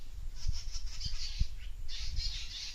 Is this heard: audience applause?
no